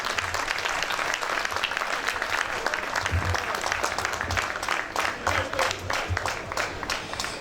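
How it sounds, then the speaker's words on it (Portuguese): Sustained audience applause after a hip hop panel discussion, many hands clapping in a steady dense wash with some crowd voices underneath, lasting several seconds. "Palmas para os senhores."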